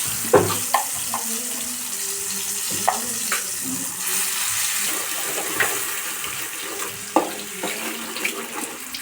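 Onion paste sizzles and fries in a pan with mustard seeds and cumin for an okra curry, a steady close hiss broken by occasional clinks and scrapes of stirring.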